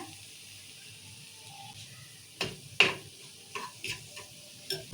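Coriander powder is stirred into a sizzling egg curry in a pan, with soft frying hiss and several quiet, clicking scrapes and taps of a spoon against the pan.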